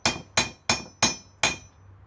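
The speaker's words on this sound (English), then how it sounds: "So I'm going to hit this side of the socket a bit more." A hammer strikes a socket to drive a core plug into a Valmet marine engine: five sharp metallic blows at a steady, unhurried rhythm, each ringing briefly before the next, close and clear with no talk.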